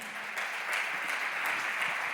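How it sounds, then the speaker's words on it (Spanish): A crowd claps steadily, a continuous wash of applause at moderate volume with no voices over it, at a church service. "dale un aplauso al Señor"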